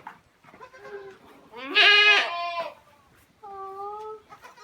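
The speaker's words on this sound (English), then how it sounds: "Baby goats." Newborn Kiko baby goats bleat close by in a few wavering calls, one loud strained cry in the middle and a steady held bleat near the end, with faint fowl sounds in the background.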